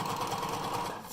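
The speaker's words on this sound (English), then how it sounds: "it might be too hard for the sewing machine to chew through." A sewing machine stitches a cotton face mask, running with a steady, close mechanical whir for about a second with no pauses.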